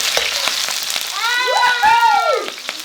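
Chopped scallion frying in hot oil gives a close, steady sizzle and crackle, while a voice speaks over it with rising, drawn-out exclamations.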